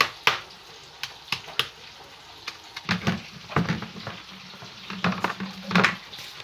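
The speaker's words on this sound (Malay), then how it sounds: "Kita nak buat belut goreng belada. Tapi kita goreng kering lah." Eel fried dry in hot oil gives a soft, continuous sizzle with crackling pops and occasional utensil clicks, fairly faint and close, with no talking.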